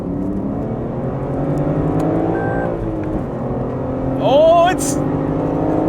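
A 2021 Lexus RC F Track Edition and a BMW M3 run side by side in a rolling race on a track, their engines holding a steady, loud drone before a rising whine near the end; a voice briefly speaks over it.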